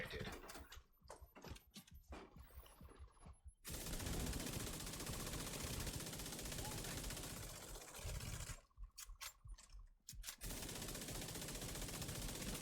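Dense bursts of rapid automatic gunfire in The Division 2 shooter game, loud and near, with brief quiet gaps between long sustained volleys.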